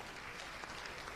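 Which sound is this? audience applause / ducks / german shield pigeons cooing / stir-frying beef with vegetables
audience applause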